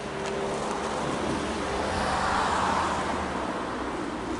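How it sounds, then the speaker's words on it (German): Steady broadband roar of car traffic on a nearby road outdoors, swelling slightly as a vehicle passes and staying continuous throughout, with no voices. "Könnt ihr eure Autos mal ein bisschen leiser machen?"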